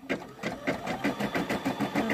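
A new sewing machine stitches steadily to tack down felt, its needle thumping in an even, rapid rhythm of about eight beats per second, close and moderately loud.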